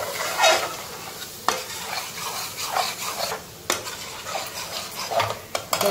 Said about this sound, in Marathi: असं परतवून घ्यायचं, पण तेल सुटेपर्यंत आता आपण परतवून घेणार आहोत त्याला.